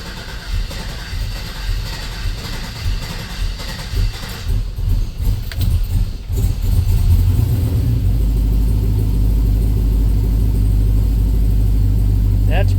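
A freshly swapped, untuned LS V8 runs in a Chevy C10 pickup with a steady, loud low rumble. The engine settles into a continuous idle after some uneven revving early on, and a voice can be heard briefly.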